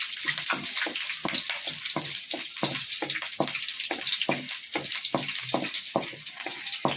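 Dried red chilies fry in hot oil, a loud, steady close sizzle broken by quick, regular scraping stirs in the pan.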